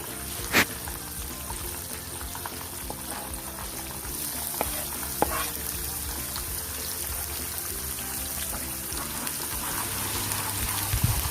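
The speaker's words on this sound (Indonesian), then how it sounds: "Ini kita tumis hingga aromanya ini keluar" Food sizzles steadily in hot oil, a continuous crackling fry with occasional sharp clinks of a utensil against the pan.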